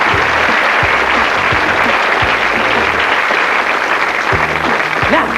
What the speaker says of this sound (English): if the audience are good and do as they should, they'll applaud till we get there